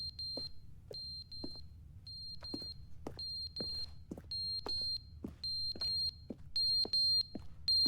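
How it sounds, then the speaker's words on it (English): Repeated short electronic beeps sound in The Stanley Parable: Ultra Deluxe, an annoying high-pitched alarm chirping in a steady rhythm over a low background hum, fairly faint and with no talking. "There's a beep, annoying beeping sound."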